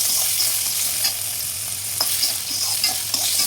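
Potato and carrot pieces fry with chana dal and garam masala for semiya, a loud, dense hiss of sizzling oil with faint stirring scrapes and pops throughout.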